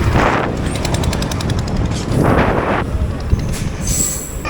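Moving Digha to Howrah train heard from on board, a loud steady rumble of wheels on rails with rhythmic clatter and recurring bursts of high squeal, close and continuous.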